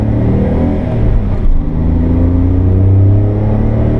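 A 1991 Honda Acty kei van's small engine drones steadily as it accelerates uphill, a loud, close, rumbling hum that rises slightly in pitch toward the end, heard from inside the cabin.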